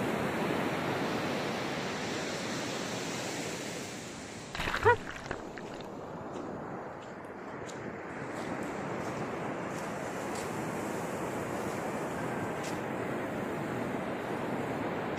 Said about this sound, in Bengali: আপনারা নিজেরাই উপভোগ করুন সমুদ্রের শান্ত স্নিগ্ধতা।